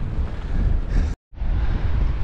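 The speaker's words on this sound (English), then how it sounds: "How's the wind? Blowing." Strong wind blows on the rugged coast near Crookhaven and Mizen Head, Ireland, buffeting the microphone with a loud, steady rush and low rumble. A brief dropout cuts the sound partway through, and nobody speaks.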